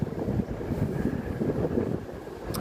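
Gusty wind buffets the microphone outdoors on Fremont Street, a steady rumbling roar with no voices, holding at an even level throughout.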